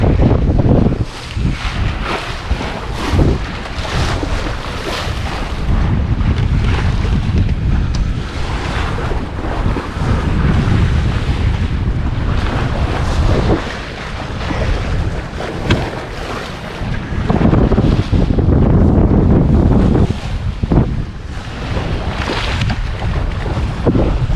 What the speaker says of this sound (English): I think it's just a little bit of wind, but enough to make us go.